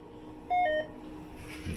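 An ATM sounds a short pair of electronic beeps during a balance check, a clean two-tone chirp standing out over a low room hum.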